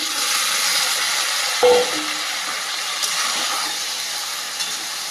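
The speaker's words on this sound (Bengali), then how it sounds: "এই পর্যায়ে দিয়ে দেবো সেদ্ধ করে রাখা মাংসটা" Parboiled mutton meets hot spice masala in oil with a loud, sustained hiss, broken by a brief thud as the meat drops in, then a steady sizzle continues.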